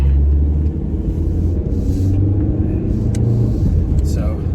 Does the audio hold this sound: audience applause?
no